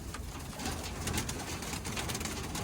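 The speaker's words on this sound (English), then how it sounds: "I'll let the birds out and show you what they think in here" Young racing pigeons in a new aviary coo softly amid constant fluttering and rustling, a busy, close, fairly loud wash of bird sounds with no talking.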